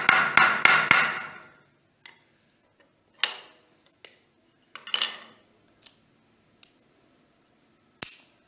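Hammer driving nails into a thin wooden strip: a quick burst of three close sharp blows, then spaced single taps, each a crisp, fairly loud knock in a quiet room.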